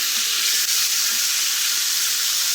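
Eggs frying in a pan in a home kitchen, a steady bright sizzling hiss that holds evenly throughout, close and without talk.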